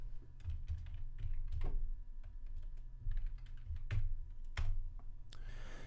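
Keystrokes on a computer keyboard while renaming a track in Ableton Live, a quick irregular run of clicks over a low hum, with a softer rustle at the end and no talking.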